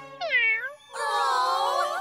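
A cartoon sand cat meows twice, close and clear. The first meow is short and bending, and the second is a longer, wavering call.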